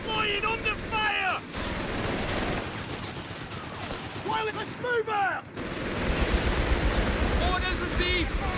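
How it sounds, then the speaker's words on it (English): Rattling bursts of gunfire and machine-gun fire from a Company of Heroes 3 battle between British and German forces, loud and dense, mixed with in-game soldier voice callouts and whistling projectiles. "Suppressive fire incoming!"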